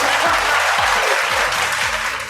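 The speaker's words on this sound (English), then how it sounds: "My own applause track." Canned applause triggered from a sound-effect button, a steady loud wash of clapping that holds evenly for the whole stretch with no voices over it.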